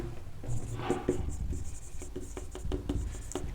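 A pen scratches across paper while an answer on Joule's law is written out for a physics exam, giving steady close scribbling with quick sharp strokes and short pauses, and no voice over it.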